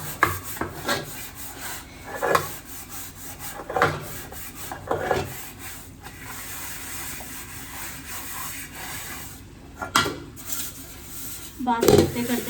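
Dishes being washed by hand at a home kitchen sink: repeated scraping, rubbing and clattering of utensils in uneven bursts, with a louder clatter near the end, under a steady background hum.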